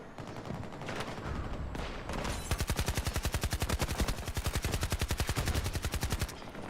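Automatic weapon fire in Battlefield 2042, with a few scattered shots followed by a long, loud, rapid burst of evenly spaced rounds that continues for several seconds.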